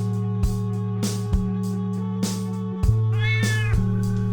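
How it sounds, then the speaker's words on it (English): A 19-and-a-half-year-old cat meows loudly and close, with a long drawn-out call near the end, over a steady background hum, no talking. "That's my cat."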